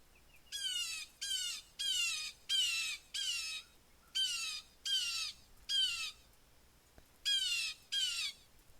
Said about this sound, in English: Next up is the Blue Jay.